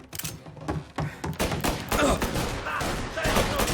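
Rapid bursts of gunfire in the Mafia Definitive Edition video game, shots cracking back to back in a dense, loud volley with faint voices mixed in.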